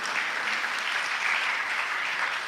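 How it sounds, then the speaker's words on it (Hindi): An audience claps together at a Gaura Purnima Sunday feast gathering, with dense, continuous applause at an even level throughout. "एक बार सब लोग ताली बजाइए।"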